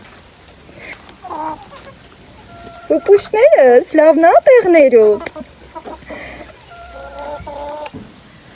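Hens on a balcony cluck loudly close by in a burst of rapid, rising calls, with someone speaking quietly before and after.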